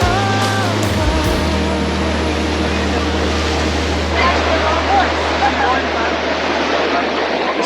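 Strong wind and waves crashing against the rocks at the Tobermory grotto, a continuous broad roar with surging swells; engine-like tones and a voice are heard briefly at the start.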